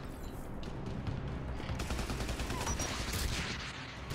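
Gunfire and rocket blasts from Geth enemies crackle in a battle in Mass Effect 3, a dense, rapid fusillade of shots that is fairly quiet and continuous.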